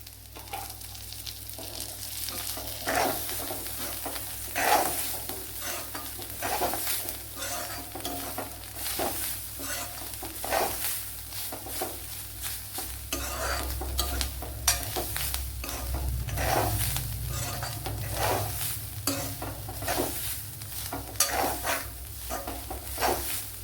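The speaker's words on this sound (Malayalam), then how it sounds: "വറുത്ത് വറുത്ത് നമ്മൾ തേങ്ങയൊക്കെ നല്ല ബ്രൗൺ നിറമായി വന്നിട്ടുണ്ട്" Grated coconut roasting in a pan with a spoonful of ghee, stirred continuously for Varutharacha chicken curry: a steady soft sizzle under repeated scraping strokes of a spoon against the pan, with no voices.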